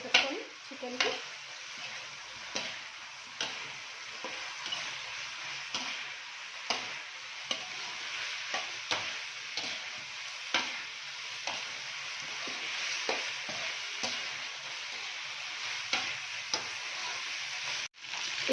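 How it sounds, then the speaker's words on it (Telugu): Battered chicken Manchurian pieces fry in a pan with a steady, soft sizzle while a utensil stirs them, giving a string of light scraping ticks every second or so, alone and fairly quiet. "ఇప్పుడు మనం చికెన్ మొత్తం వేసేస్తున్నాం. మొత్తం ఇది కోట్ చేసేసుకొని చికెన్కి"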